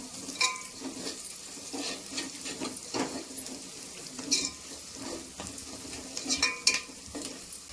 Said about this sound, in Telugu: నాటుకోడి వేసేసుకున్నాం